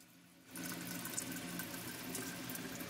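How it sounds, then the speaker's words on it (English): Water pours steadily off freshly rendered pork fat in a kitchen, a soft continuous splashing stream that starts abruptly and runs on evenly. "So we just very gently pour this off."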